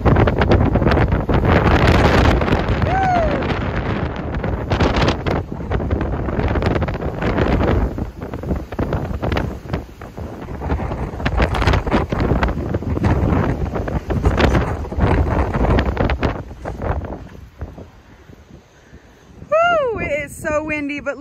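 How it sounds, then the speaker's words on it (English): Strong gusting wind roars across a mountain summit on the Appalachian Trail, buffeting the microphone loudly and continuously, easing near the end where a few brief calls or squeaks appear. "It's super windy."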